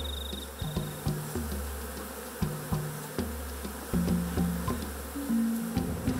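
Honey bees buzz close around frames in a busy parent hive, with low droning wingbeats rising and falling continuously and occasional knocks of frame handling.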